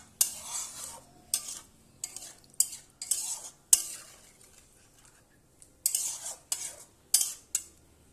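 Small fish are stirred in a pan, with repeated scraping strokes of a spatula in bursts, a faint sizzle underneath and occasional sharp metal clinks, close and fairly quiet.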